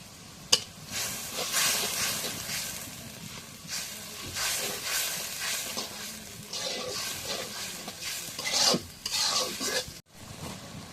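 Cumin paste added to a pan for a taro and lentil dish with fish, giving a steady close sizzle and hiss with stirring scrapes for about ten seconds, then a brief pause before the frying resumes.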